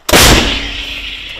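A single loud artillery gun blast, a sharp boom followed by a long rumbling decay, close by with no talking.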